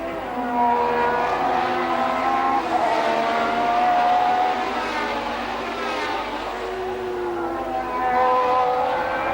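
Formula 1 cars from the 1988 Imola race, Williams Judd and Benetton Ford DFR, wail past with rising and falling engine notes, several cars overlapping in a loud, continuous trackside roar.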